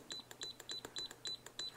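A FNIRSI HS-02B micro soldering iron gives a rapid series of short, quiet electronic beeps in an even rhythm, heard alone.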